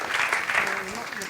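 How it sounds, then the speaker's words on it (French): A brief burst of audience applause at a university ceremony honouring top work-study students, dense clapping that fades slightly within a second or so. "Oui, on peut l'applaudir, Jean-Dominique."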